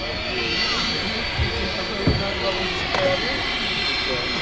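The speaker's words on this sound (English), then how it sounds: "RB211s. Wonderful engine sound on these." A 29-year-old Boeing 757 with Rolls-Royce RB211 engines roars at Manchester Airport, a steady, broad jet rumble with a couple of faint knocks, heard from a distance.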